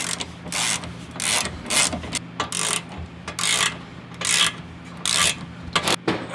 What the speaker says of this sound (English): And you can tighten the bolts.